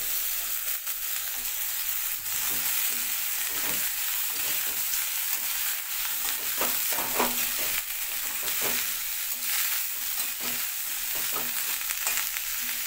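Pointed gourd sizzles as it goes into a pan of lightly fried onions for a mung dal dish, a steady broadband frying hiss with intermittent stirring scrapes throughout, close and moderately loud with no talk.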